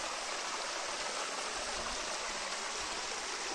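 Steady rushing water of a hillside stream or small waterfall in Assam, a dense continuous hiss with no other sounds, close and even.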